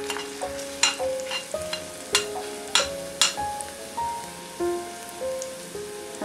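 Garlic spooned into melted ghee fries with a steady sizzle, broken by sharp metallic stirring scrapes and clinks at irregular intervals, with a faint melodic tone running through the background.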